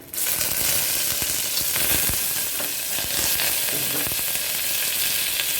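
Dried red chillies and curry leaves fry in hot oil for a sambar, a loud, continuous sizzle and crackle with a few stirring knocks.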